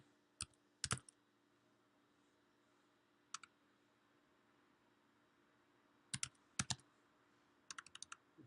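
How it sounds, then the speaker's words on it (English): Computer keyboard keys click in scattered short bursts, single taps and quick clusters with gaps of silence between, close and fairly crisp over a faint steady hum, while someone writes C code; no talking. "Typing that"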